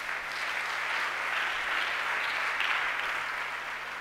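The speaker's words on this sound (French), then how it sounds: "Acclamons encore le Seigneur." A church congregation applauding during a Sunday worship service: steady, dense clapping from many hands that fills the room evenly for several seconds without a break and without speech.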